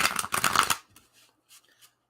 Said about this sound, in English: Shuffle the cards a little bit.